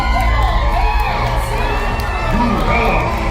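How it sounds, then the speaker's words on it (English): A live audience at a Disney villains theater show cheers, screams and whoops loudly and continuously, a dense crowd roar filling the space with children's shrieks rising through it. "Clap, stomp, and scream. Show who you love."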